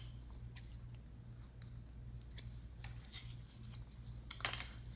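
Scissors snipping through a piece of cardboard, a few faint crisp cuts over a steady low hum in a quiet room.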